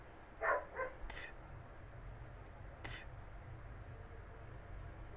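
A dog gives two quick, fairly faint barks early on, then a sharper distant knock or yip, against a low steady background hum.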